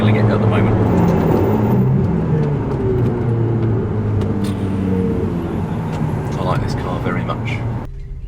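A 2015 Ferrari 488 GTB's mid-engine V8 roars steadily at close range, its deep drone holding loud throughout with slight shifts in pitch.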